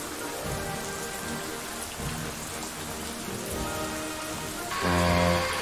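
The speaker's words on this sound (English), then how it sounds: "Everything was going good until it started to rain." Steady rain patters and hisses throughout, with a soft low rumble and a louder swell of noise near the end.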